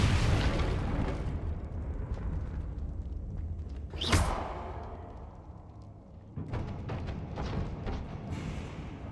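In a video game, a Confringo spell bursts with a loud rumbling blast that decays slowly, followed by a sharp whooshing crack and later a cluster of crackling, popping impacts.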